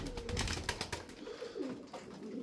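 Mirrored Sabuni pigeons coo in soft, low, rolling calls, fairly quiet and close, with no talking.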